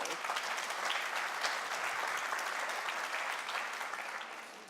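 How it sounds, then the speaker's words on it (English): Conference audience at a culture summit panel applauding a speaker, dense even clapping that holds steady and then tapers slightly toward the end. "they keep applauding everything you're saying"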